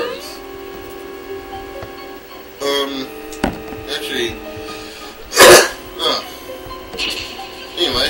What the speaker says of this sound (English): just had a cough right there